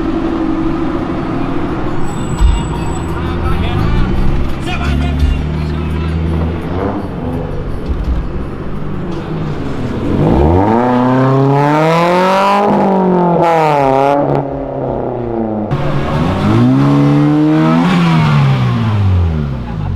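A Chevrolet Chevette engine revs repeatedly, climbing and falling in loud rising and dropping whines, with a low rumble between bursts.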